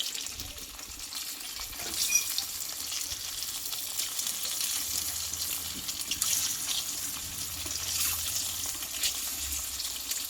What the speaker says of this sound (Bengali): এই তেলটায় আমি ডিমগুলোকে ভেজে নেবো